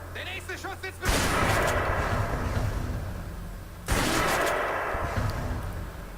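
Two loud bursts of gunfire from the stealth shooter game Splinter Cell: Conviction, each a heavy blast that rings out and decays for a few seconds, with a brief quiet voice before the first.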